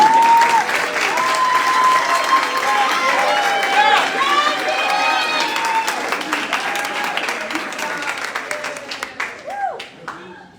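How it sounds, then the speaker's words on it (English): An audience at a BBYO convention installation ceremony claps loudly and steadily with scattered whoops and cheers, the applause gradually thinning into individual claps before dying out. "Now we can clap."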